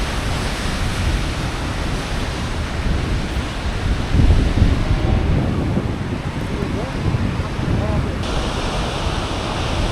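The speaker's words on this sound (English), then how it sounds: "can hear the roar of the Pöllat River below and the crashing waterfall in the gorge" The Pöllat River roars continuously below a gorge with a waterfall, a broad, steady rushing wash with slight swells and some wind buffeting, heard from above with no voices.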